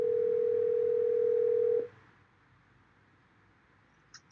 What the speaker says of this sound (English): I'm going to tap on the phone app, and I'm going to call Deidre